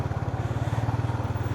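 A motorcycle engine idling or passing close by on a road in Arayat during monsoon rain, a loud rapid regular putter that throbs evenly throughout.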